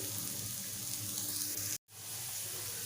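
Potato slices coated in semolina shallow-frying over a low gas flame, a soft continuous sizzle that cuts out briefly near the end before resuming, no talking.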